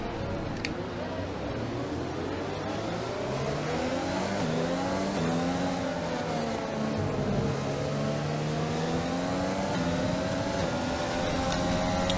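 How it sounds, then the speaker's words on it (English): A video game race car engine roars steadily with rising and falling pitch as it revs and shifts, loud and continuous throughout with no talking. "Just listen to the engine noise."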